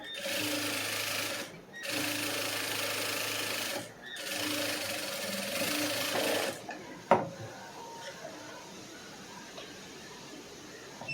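A sewing machine runs in three steady bursts of stitching on a lining blouse, each burst broken by a short pause. The motor cuts off near the end, leaving a faint rustle and one sharp click.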